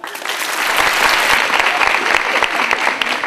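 Loud, dense audience applause fills a college hall during a quiz event at Kanya College, Satara, steady and sustained throughout without a break.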